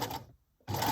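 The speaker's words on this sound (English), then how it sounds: "So now let's sew up the seam." A sewing machine stitches a fabric seam for upcycled scrap-fabric Christmas cards, its whirring running in two bursts separated by a brief pause near the middle.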